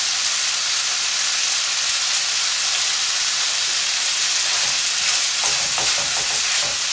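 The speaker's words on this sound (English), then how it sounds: "You need to make sure you cook the rice for 1 or 2 minutes." Rice frying in a paella pan for a Valencian paella gives a steady, dense sizzle throughout, with a few soft stirring scrapes near the end; no one speaks.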